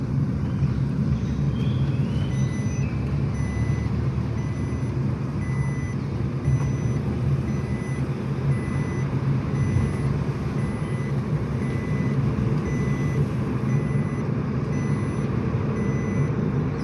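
A car's seat belt warning chime gives short, evenly spaced high beeps in a repeating pattern, faint over the constant low rumble of the moving vehicle's interior.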